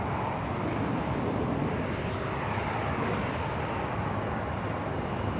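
A Delta airliner lining up for takeoff at LAX: a steady, distant jet engine rumble holding at an even level throughout, with no talking.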